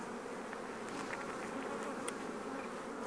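Honey bees buzzing at an opened beehive during hive restoration work, a faint, steady, dense hum of many bees with no pauses and no voices.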